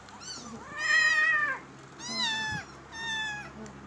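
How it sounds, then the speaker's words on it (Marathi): Kittens meow loudly and close by in three separate drawn-out cries, with a short pause between each. "सैरा बैरा पळतिया मांजराची पिल सारी दुधाच्या पुड्यावर तुटून पडली सारी"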